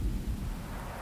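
A tank cannon fires in a video game: one deep, heavy boom at the start that rolls into a low rumble and fades over about a second.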